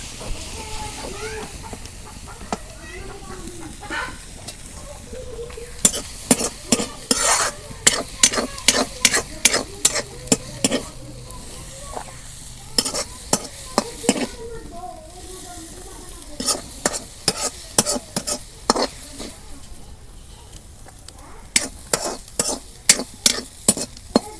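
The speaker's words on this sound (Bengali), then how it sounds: "শাক ভাজা হয়ে গেছে" Leafy greens sizzle softly in a pan while a utensil stirs and scrapes in repeated sharp bursts, the clatter coming in quick clusters.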